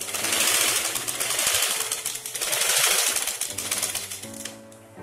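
A sewing machine stitches a chudidar with a loud, fast, continuous mechanical rattle that slows and winds down at the end.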